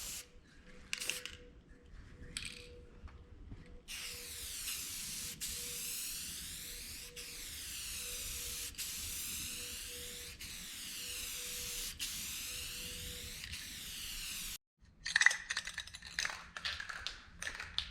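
Spray-can paint hisses in several long sustained bursts, each a few seconds with brief gaps, as light dusting coats go onto a new hood for a Rolla-Anywhere build, fairly close and steady.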